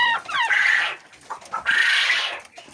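Laying hens in a henhouse cluck and squawk in close, loud bursts, several birds calling over one another with short pauses between.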